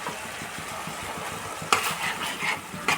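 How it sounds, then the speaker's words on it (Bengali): Spices and turmeric being stirred in a pan over low heat for a vegetarian eggplant dish, with a soft steady sizzle and a few sharper scrapes of the spoon near the end. "কষাচ্ছি, আঁচটা আমার একদমই কমানোই আছে।"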